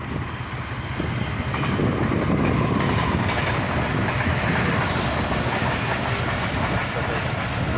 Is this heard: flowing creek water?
no